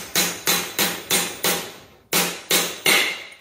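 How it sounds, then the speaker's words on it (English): Seven sharp metallic hammer strikes drive a pipe over a shaft to seat a bearing, evenly spaced with a short pause before the last three, loud and close with no voices. "And we'll just tap right through, tap it in place."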